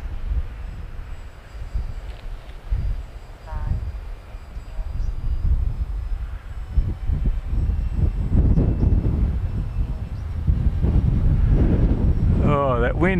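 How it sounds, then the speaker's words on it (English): Gusty wind buffets the microphone of a 3D printed RC plane in flight, a rough low rumble that swells and grows stronger toward the end, with someone speaking over it. "Oh, that wind is horrible."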